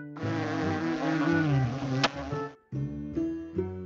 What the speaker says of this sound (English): Looks like I've got a bee careful next time